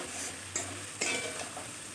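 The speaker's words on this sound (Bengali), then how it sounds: "পেঁয়াজটা খুব বেশি লাল করে ভাজবো না" Onion frying in a pan for chicken kosa curry gives a soft, quiet sizzle, broken by a couple of brief stirring scrapes of a utensil against the pan.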